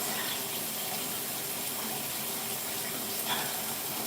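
Steady hiss of running shower water, a continuous broadband spray that stays even throughout with no pauses.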